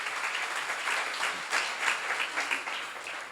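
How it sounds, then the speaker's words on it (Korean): Audience at a church seminar applauding, a steady dense wash of many hands clapping at moderate volume, swelling in faint pulses toward the end, with no talk. "박수로 하자."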